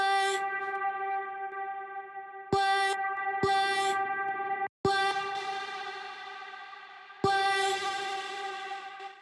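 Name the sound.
reverb throw effect on vocal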